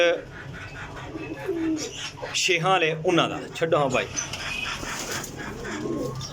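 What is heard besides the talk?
pigeons cooing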